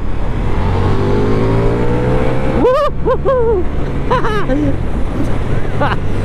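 A Ducati XDiavel V4 motorcycle's V4 engine pulls hard in third gear from low revs on a downhill road, a steady rising drone with wind rush and a voice talking over it.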